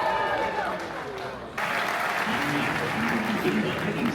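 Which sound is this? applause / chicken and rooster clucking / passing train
applause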